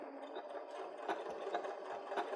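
A domestic sewing machine runs a short locking stitch into fabric, a steady mechanical whir with light rhythmic rattling ticks, close and moderately quiet, with no voices.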